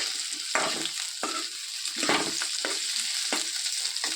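Tomatoes frying in oil in a pan for tomato chutney, a steady hiss broken by repeated scraping stirs of a spatula, close and clear with no talk.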